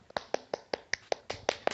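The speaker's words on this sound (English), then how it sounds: "Clap, click, clap, click, clap." Hand claps alternating with finger clicks in a quick steady pulse, about ten sharp close hits, fairly soft overall, with no talking.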